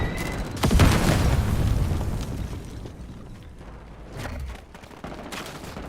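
A grenade explosion and gunfire in an MW4-style shooter video game, a sharp booming burst followed by a rumbling tail and scattered softer pops fading into the background.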